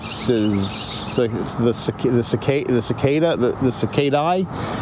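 A dense, continuous high-pitched buzzing chorus of 17-year periodical cicadas fills the background while someone talks over it.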